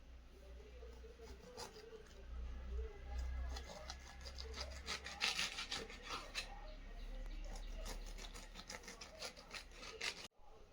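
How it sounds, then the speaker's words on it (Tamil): Knife slicing through a pineapple, cutting diamond shapes into the rind for a pineapple lollipop, heard as close, repeated rasping and rubbing strokes of the blade at a steady pace with no talking. "இப்போ வந்து நம்ம ஆப்போசிட் சைடில் அதே போல் டைமண்ட் ஷேப்பில் கட் பண்ண போகிறோம்."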